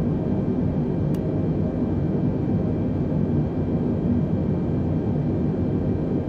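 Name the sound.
Airbus A320neo jet taxiing to the gate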